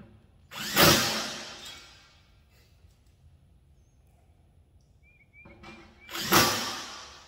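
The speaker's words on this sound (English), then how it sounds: "it's so much quicker just to use the impact. My DeWalt makes it so much easier." A DeWalt impact driver drives bolts into a Harbor Freight Yukon 27-inch garage wall-mount cabinet, with two loud, close bursts of whirring several seconds apart and near quiet between them.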